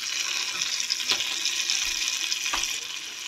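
Onion frying in butter in a pan gives a steady, close hiss of sizzling, with a couple of soft stirring knocks.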